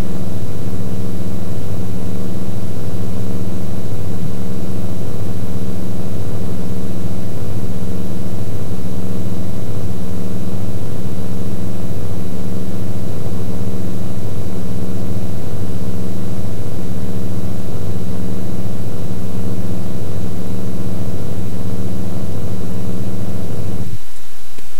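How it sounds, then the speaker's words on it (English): Synthetic racing car acceleration loop built in WavePad sound editor, a loud steady engine drone with stacked harmonics pulsing evenly for about twenty-four seconds before cutting off abruptly. "here's the sound files I created for this racing car acceleration sound effect"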